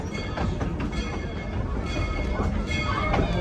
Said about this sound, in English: please remain seated until the train has come to a safe and complete stop